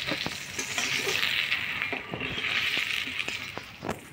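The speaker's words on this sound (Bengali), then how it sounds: "হলুদ লবণ বেগুনগুলো ভাজি নিলাম" Eggplant slices frying in oil with turmeric and salt in a pan: a continuous bright sizzle with scattered metallic clinks and scrapes of a utensil against the pan, close and steady, no voices.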